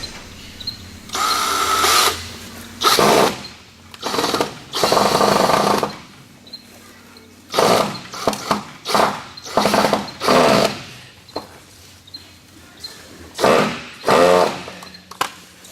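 A power drill drives screws into the wooden frame of a chicken tractor, close and loud, in several separate whirring bursts of one to two seconds with short pauses between them.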